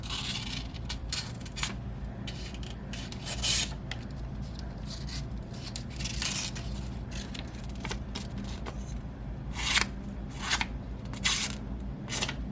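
A Spyderco Para3 folding knife slices through paper in a run of short, dry rasping cuts, each a quick scratchy burst, close and fairly quiet over a low steady background hum.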